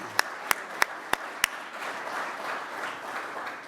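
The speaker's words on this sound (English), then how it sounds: "we could recognize you with a big round of applause?" A few sharp, spaced claps ring out, then a soft wash of scattered applause from a crowd continues in the background.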